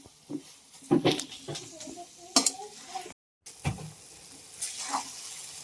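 Metal pots and plates clatter in a home kitchen as freshly set milk-and-sugar sweet squares are turned out onto a plate, with scattered sharp clinks and scrapes and a voice talking between them.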